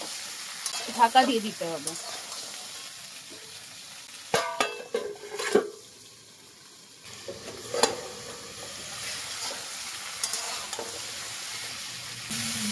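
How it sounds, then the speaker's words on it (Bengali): Pumpkin-green stalks being stirred and fried in a pan, with scraping spatula strokes over a steady sizzle, including a burst of clattering stirs midway, and someone briefly speaking over the cooking. "এবার একটু নাড়াচাড়া করে"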